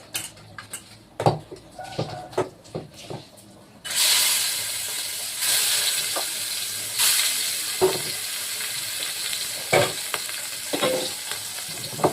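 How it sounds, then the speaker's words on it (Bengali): Katla fish frying in hot oil in a wok: after a few seconds of scattered knocks and clatter, a sudden loud hiss of fish hitting the oil becomes a steady, close sizzle, with occasional utensil scrapes. "কড়াই গরম হয়ে গেছে, মাছটা ভাজা বসিয়ে দিই।"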